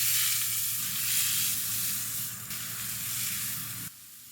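Beef sears in a hot pan, giving a loud, steady sizzle and hiss close up that drops abruptly near the end, with no talking.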